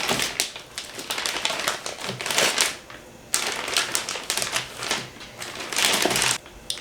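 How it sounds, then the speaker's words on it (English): Crinkling plastic bags being handled up close as hamburger patties are put into them, a busy run of rustles and crackles with a brief pause midway. "you want to put them in plastic bags that won't let any water in."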